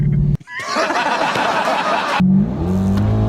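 A minivan engine roars loudly at close range amid chaotic noise and laughter, then settles into a rising, droning rev as it accelerates.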